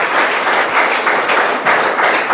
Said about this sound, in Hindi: आइए एक बार हम ताली बजाते हुए परमेश्वर को धन्यवाद देंगे